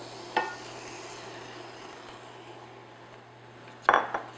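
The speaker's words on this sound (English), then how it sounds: "so now what we're going to do is put our apple slices in there" Apple slices for a French apple tart going into a pan, marked by a light clink early and a louder clatter of metal and fruit near the end, over a quiet steady hum.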